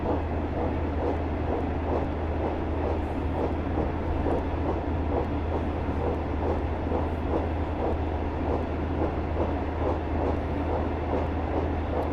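A Class 142 Pacer diesel multiple unit in Train Sim 2022 runs steadily on the South Lancashire and North Cheshire route, its engine drone and rhythmic wheel clatter continuous, loud and close throughout with no talk.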